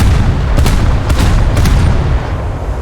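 Naval guns in a warship video game ripple firing, with three booming shots spaced about half a second apart over a heavy low rumble of continuous battle noise.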